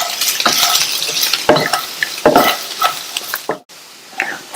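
Potato jeera fry being stirred in a pan with chopped coriander leaves, loud scraping strokes of a spoon over a steady sizzle, several distinct stirs in a row and no talking.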